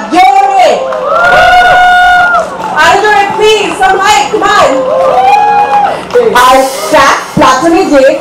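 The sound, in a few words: crowd cheering and clapping at concert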